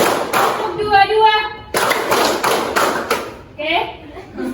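Classroom of students clapping along in counted bursts, several rounds of sharp hand claps separated by a teacher's spoken counts, with voices between the rounds.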